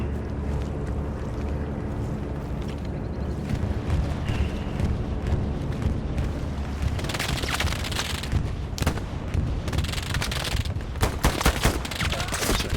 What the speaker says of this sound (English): it looks like there was just a small little firefight there between Goldup and someone else